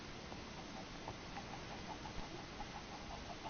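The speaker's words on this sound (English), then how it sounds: "There's the old good chicken heads just wandering around." Clucking from chickens in the Minecraft video game on PS4, a run of short, soft, evenly spaced clucks and chirps over a quiet steady background, with no one talking.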